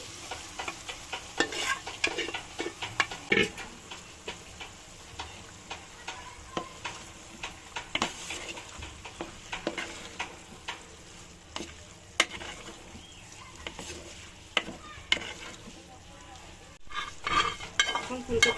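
Lentils are stirred into vegetables with cauliflower cooking in a pan, giving a quiet ongoing sizzle broken by frequent scraping and tapping of the spoon, close and unhurried.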